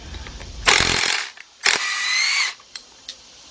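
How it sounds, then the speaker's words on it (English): Power tool spinning off a 13mm bolt that holds the oil dipstick tube on a Chevy Equinox / Buick Rendezvous engine: two close whirring bursts of about a second each, followed by a few short ratcheting clicks. "let's take off this 13mm bolt here that's holding on to our oil dipstick tube"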